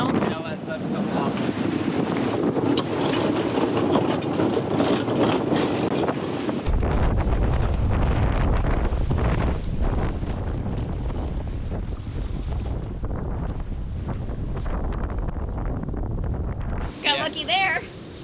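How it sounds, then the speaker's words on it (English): A strong wind gust strikes a reefed sailboat at sea near St. Croix, with a steady roar of wind buffeting the microphone and rushing water for the whole span, and people talking over it. "But we did get hit with that gust."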